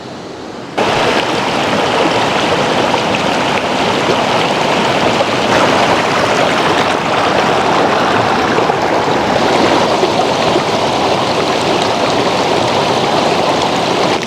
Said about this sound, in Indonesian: Tidur di udara yang dingin, kemudian diiringi dengan suara air sungai ini,